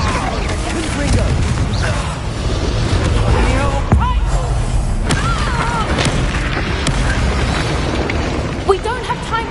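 Confringo explosion spells go off in the video game Hogwarts Legacy, with repeated booms and bursts layered under character voices and game sounds.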